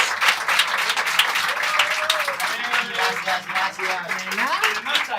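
An audience gives a warm round of applause, steady dense clapping throughout, with voices talking over it.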